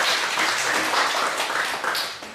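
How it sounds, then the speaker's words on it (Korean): Audience applause welcoming an arriving guest teacher at an arts workshop gathering, a steady, moderately loud wash of clapping that continues throughout without speech. "박수로 환영해 주십시오."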